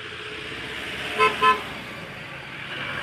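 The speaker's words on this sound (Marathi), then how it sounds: "प्रत्येक गाडीवाला इथे हॉर्न देऊन जातो." A vehicle on a village road near a temple gives two quick toots of its horn while passing, moderately loud against quiet roadway background noise.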